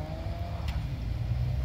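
A BMW drifting with its wheels spinning, a steady low engine roar sustained throughout and a brief higher whine near the middle.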